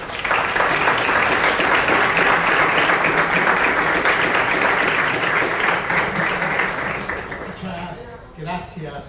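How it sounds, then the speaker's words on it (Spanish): A crowd breaks into loud, sustained applause that holds steady for several seconds before tapering off, with a voice emerging at the end. "recibamos a nuestro presentador con un fuerte aplauso"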